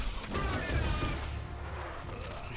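Cinder's Shadow Fire Flash attack in the fighting game Killer Instinct, a burst of rapid crackling explosive hits over a dense rumbling game soundtrack, loud and continuous.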